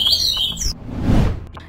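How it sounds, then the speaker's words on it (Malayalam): Several birds in a bush burst into high, quick chirps that last under a second, followed by a low rushing swell like wings taking off, as a sound effect in a lion story. "അവിടെ പക്ഷികൾ ചിലയ്ക്കുന്നു."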